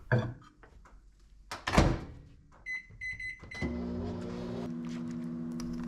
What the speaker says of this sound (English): about 3 minutes in the microwave will do.